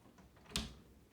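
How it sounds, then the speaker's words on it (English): A door being shut to secure a door anchor for a full-body workout, a single soft thud that stands out briefly against quiet room sound. "Just put it in, close your door."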